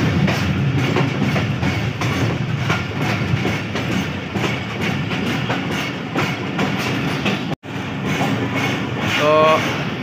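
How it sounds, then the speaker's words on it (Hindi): A passenger train arriving at Muzaffargarh station, heard from on board: a loud, continuous rumble and clatter of wheels on rails, with a brief dropout, then a rising squeal near the end. A voice talks beneath the noise. "तो हम मुजफ्फरगढ़ इंटर हो गए हैं। यहाँ पे हम तकरीबन 2 मिनट का स्टॉप करेंगे"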